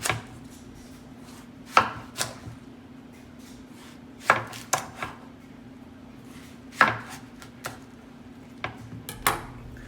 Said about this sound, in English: Just cut into chunks, just like this.